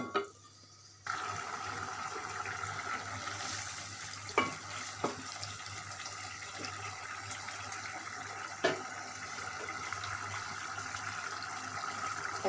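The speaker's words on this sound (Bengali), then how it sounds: "এখন আমি শিমের বিচিগুলো ভালো করে এই মশলার সাথে কষিয়ে নিব" Bean seeds fry with spices in a pan, giving a steady close sizzle with stirring scrapes and a few sharp spoon knocks, starting with a brief quieter moment before the frying noise fills in.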